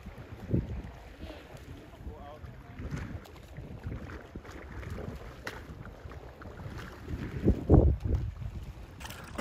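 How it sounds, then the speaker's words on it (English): Kayak paddling on a calm, waveless sea off Boracay, with steady splashing and water swish alongside breezy wind noise close to the microphone. "Right now we're kayaking in Boracay."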